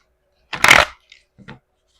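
A quick riffle of cards being shuffled, one brisk rushing burst followed by a couple of soft taps, close and otherwise quiet.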